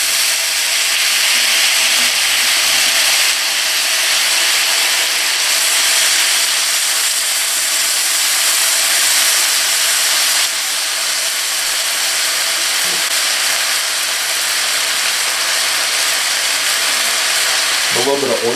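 Chinese chive potstickers sizzle steadily in a hot pan with a few drops of soy sauce added, a loud, continuous frying hiss filling the whole stretch, with no talk over it.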